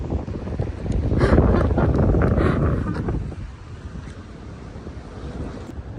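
Outdoor wind buffets a microphone at a tourist spot in Taiwan, a loud rumbling gust for the first three seconds that then eases into a steadier, softer rush.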